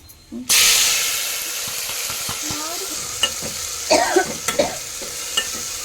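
Chilies dropped into hot oil in a pan for tamarind rasam burst into a loud, sudden sizzle that settles into a steady hiss, with scattered stirring clinks and scrapes close by.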